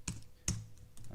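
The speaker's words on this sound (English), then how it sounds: "when we're typing it into cell" Typing on a computer keyboard while entering text into an Excel spreadsheet cell: two distinct bursts of key clicks, close and fairly quiet, with a softer tap near the end and no talking.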